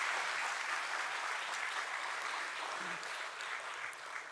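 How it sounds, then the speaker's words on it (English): An audience at the BSE listing ceremony for JSW Infrastructure applauds with continuous, dense clapping that fades slightly toward the end. "Ladies and gentlemen, let's give a thunderous applause"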